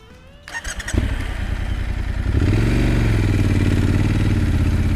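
A Triumph Scrambler motorcycle engine sputters and catches after a few clattering attempts, then settles into a loud, steady idle close by.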